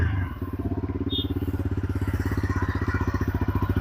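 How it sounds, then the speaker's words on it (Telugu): A 2025 TVS Apache RTR 160 4V motorcycle engine idles close by after starting, with a fast, even thumping exhaust beat that holds steady throughout, no voices over it. "ఇంజిన్ ఆన్ చేస్తున్నాను."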